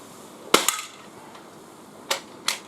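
Three sharp shots from an Umarex H&K MP7 airgun on a windy outdoor range, each a crisp crack, one near the start and two close together near the end, over faint wind noise.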